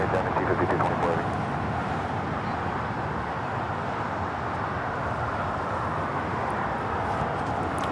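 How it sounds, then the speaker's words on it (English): A China Airlines Cargo Boeing 777 freighter departs LAX bound for Miami, its jet engines giving a steady, loud broadband roar that holds at even strength throughout. "That was China Airlines Cargo 5224 headed out to Miami on a 777 freighter"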